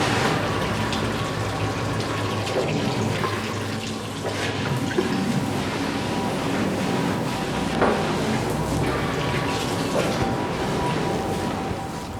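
A tap runs in a steady, close stream at a sink in Tokyo as hands are washed, with a continuous rushing hiss and faint clinks throughout.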